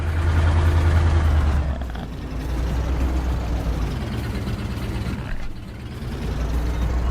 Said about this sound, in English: Yes, I did adjust the sound on the little Ford